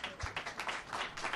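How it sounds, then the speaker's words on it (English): An audience at a history café talk gives a brief, soft round of applause, a faint, close patter of scattered hand claps. "Let's give a round of applause to Paula and Alan."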